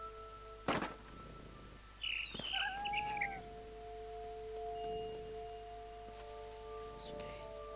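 A cat in the video game What Remains of Edith Finch gives a couple of short, bright meows and a warbling caterwaul, with a few thumps and steady electronic tones humming underneath.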